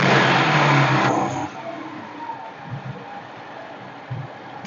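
A Hero Xpulse 200 V2 motorcycle engine, after a rocker noise repair, starts with a loud, roaring rev, then settles into a steadier, quieter running idle.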